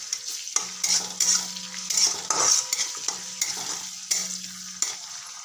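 Mustard seeds, curry leaves and green chillies crackle and sizzle in hot oil for Marathi-style pav vada, with a spoon stirring and scraping the pan in repeated strokes, close and fairly loud, no talking.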